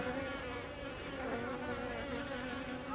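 Honeybees buzzing at an open hive during a beekeeper's inspection, a dense, steady hum of many insects close by, continuous and moderately loud with no speech.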